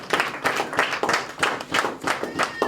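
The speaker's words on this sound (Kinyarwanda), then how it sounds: "Reka dukomere Imana amashyi" A church congregation claps for God in a steady, rhythmic beat of many hands, roughly three claps a second, loud and close.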